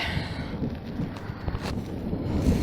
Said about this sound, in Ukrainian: вітер дує, треба тікати